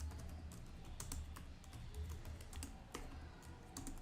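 Rapid, steady typing on a computer keyboard while writing HTML, with dense close clicks and faint background hum, no voices.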